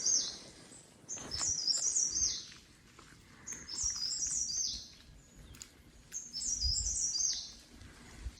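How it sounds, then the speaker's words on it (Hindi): A small bird sings in forest at Binsar, three bursts of bright high chirping phrases separated by short pauses, clear and fairly close over a quiet woodland background. "ये शायद बहुत सबसे छोटी चिड़िया है जो बोल रही है।"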